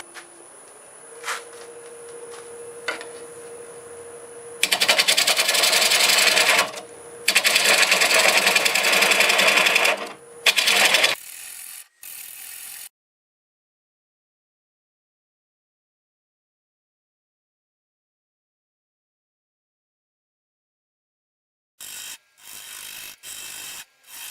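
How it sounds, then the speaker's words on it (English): Black locust wood turned on a lathe with a 3/8 bowl gouge for a bowl, a thin whine under loud bursts of rough cutting that end abruptly, then silence and a few short scraping bursts at the end. "I'm going to start out with a 3/8 bowl gouge."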